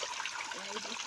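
Cold spring water from a village source gushes strongly in a brief, continuous rush with a faint voice underneath.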